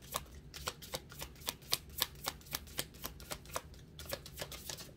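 A tarot card deck being shuffled, heard as a quiet, close run of crisp riffling snaps in a steady rhythm, with no voice.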